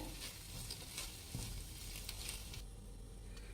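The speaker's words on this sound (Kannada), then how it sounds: "ಚೆನ್ನಾಗಿ ಮಿಕ್ಸ್ ಮಾಡ್ಕೊಳ್ಳಿ ಸಾಸ್ ಎಲ್ಲ ಹಾಕಿದ್ಮೇಲೆ" Egg noodles being stirred with tomato ketchup and other sauces in a hot pan, a continuous soft sizzle with faint scraping and clinks from the stirring, heard alone and fairly quiet.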